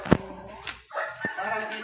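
Native street dogs bark and yip in short bursts, one sharp nearby bark followed by scattered whimpers and barks, with a person talking between them.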